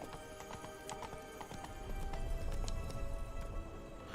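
Rapid, rhythmic hoofbeats of a video game horse at full gallop, steady and fairly close, under a soft musical backdrop.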